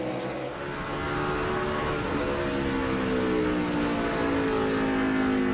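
NASCAR Busch Series stock cars at Richmond roar around the short track, a loud, continuous layered engine howl with several overlapping pitches rising and shifting as the pack passes.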